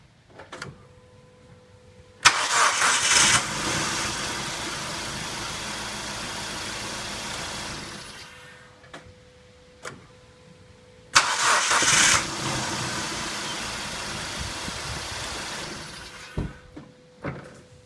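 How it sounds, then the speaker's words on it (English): A car engine cranks and fires twice with a Rocket Socket portable jump starter, each start a sudden loud roar settling into a steady idle before cutting off, with clicks and quiet pauses between. "it was able to start the car without any issue 6 different times"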